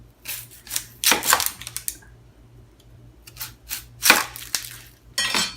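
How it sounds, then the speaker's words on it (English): A knife cuts through an onion on a board, slicing rounds from the middle for a raw vegan deli-style salad on ciabatta: a few crisp, close cutting knocks separated by quiet pauses. "I like to cut a slice right out of the middle of my onion, like that."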